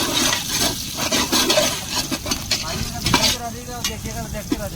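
Chilli, garlic and onion frying and being stirred in a pan outdoors, with steady sizzling and scraping stirs throughout, close and moderately loud.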